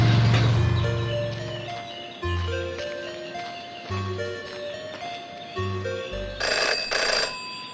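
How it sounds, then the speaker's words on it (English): A telephone rings in the video game Jenny LeClue, with repeated electronic trilling bursts in a steady rhythm, loud and close, over a soft musical background. "Jenny had learned never to ignore a ringing phone"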